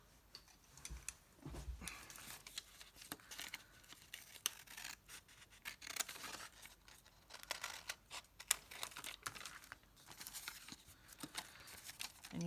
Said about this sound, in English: I need to take my scissors and trim that down.